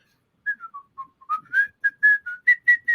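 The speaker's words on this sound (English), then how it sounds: "why am I whistling Dixie?" A person whistles the tune Dixie, a short phrase of about a dozen clear, bright notes, close and alone with no talk.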